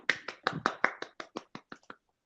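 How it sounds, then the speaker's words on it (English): Hands clap at a small informal award show, about a dozen sharp separate claps in a steady rhythm that grow softer and stop, close and alone with no talk. "keep clapping"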